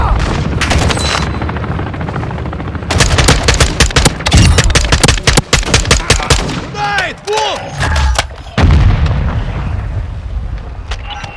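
Loud, dense gunfire in the Warzone 2 DMZ video game, with rapid automatic bursts and heavy booming shots close by for several seconds. A brief quieter gap comes midway before the firing resumes.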